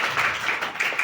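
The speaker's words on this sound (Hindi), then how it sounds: "चलिए तालियां बजा दीजिए।" Schoolchildren clap together in a Class 5 classroom during a triangle geometry lesson, a short close burst of rapid, uneven clapping lasting about a second.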